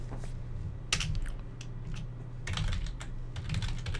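Code being typed on a computer keyboard: a steady run of close, light key clicks with small bursts and pauses, no talking.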